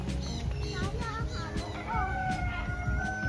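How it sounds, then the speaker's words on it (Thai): Bantam chickens in a cage cluck and give short crowing calls close by, several birds overlapping in a busy, chattering mix with people talking in the background at a cafe. "อันนี้จะเป็นกรงไก่ เป็นไก่แจ้"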